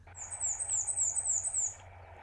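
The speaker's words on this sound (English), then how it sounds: "Here's a sneaky one, the black and white warbler. It just sounds like a squeaky wheel." A black-and-white warbler sings a thin, high, squeaky series of repeated two-note phrases, like a squeaky wheel, rapid and evenly paced over faint background hum.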